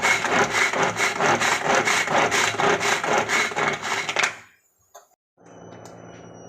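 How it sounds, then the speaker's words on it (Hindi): Tomatoes being chopped in a manual hand chopper in a home kitchen: a loud, close run of rhythmic rasping, grinding strokes that stops abruptly after about four seconds, leaving a brief click and quiet room tone. "टमाटर चॉपर कर रही थी, इसलिए आवाज़ नहीं आ रही होगी बीच में"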